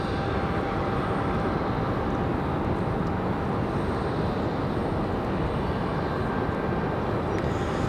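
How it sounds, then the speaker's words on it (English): An Airbus A319 airliner from Charlotte at Raleigh-Durham airport gives a steady, loud, broadband engine roar that holds evenly throughout with no pauses. "I don't think I've ever seen an A319 from Charlotte."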